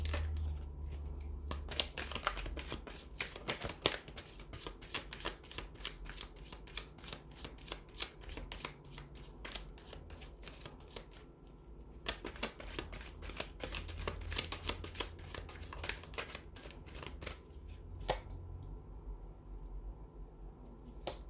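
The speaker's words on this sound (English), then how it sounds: "we'll give the cards a shuffle here" Tarot cards being shuffled close up, repeated crisp riffling bursts and soft flutters in an uneven rhythm, with no talking.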